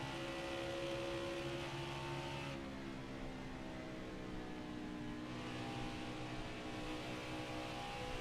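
Race car engines in the NASCAR Heat 5 game during a 1998-mod race at Las Vegas, a faint, steady engine drone with a car holding alongside, its tone shifting slightly as it moves.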